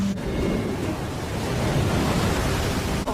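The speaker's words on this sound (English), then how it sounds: "Waves are insane." Ocean waves surge up a beach in a loud, continuous roar of surf and wind-blown noise, steady throughout with no voices.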